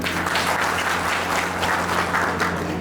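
Steady applause from an outdoor village crowd at a development-works inauguration, a dense, even patter of many hands clapping for nearly three seconds with no talk over it.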